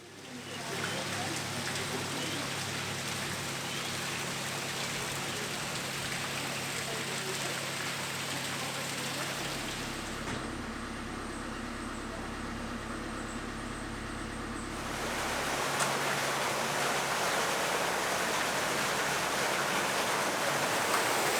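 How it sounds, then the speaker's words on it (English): Water leaking steadily through the gates of a Scottish canal staircase lock, a constant close rushing and splashing roar that shifts in tone partway through. "I see the locks in Scotland are as leaky as those down south."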